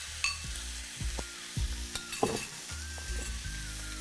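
Chicken sizzles in a hot frying pan over a high flame, a steady crackle with a spatula repeatedly scraping and knocking against the pan.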